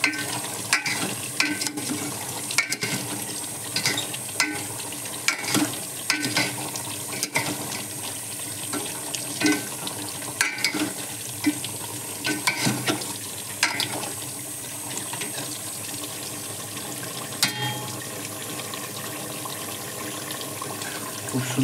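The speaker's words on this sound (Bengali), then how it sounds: "একটু হিলান দিতে হবে।" Beef curry being stirred as it cooks in a pan, with intermittent spoon scrapes and clicks over a steady wet bubbling sizzle, close and without talk.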